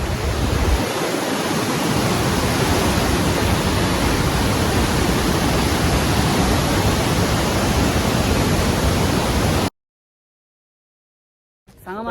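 Duduma waterfall roars as a loud, dense, unbroken rush of falling water that fills the air for about ten seconds before cutting off abruptly.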